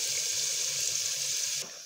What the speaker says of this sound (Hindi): पानी ऐड करना है, तकरीबन 1 गिलास